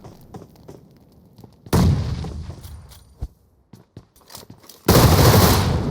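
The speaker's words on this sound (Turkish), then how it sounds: "Abi ne bombalar ne molotoflar geliyor" Grenade and Molotov blasts in the mobile shooter PUBG Mobile, with gunfire: sporadic sharp shots, then a loud burst of explosion and roaring fire, a quieter stretch of scattered shots, and a second heavy blast at the end.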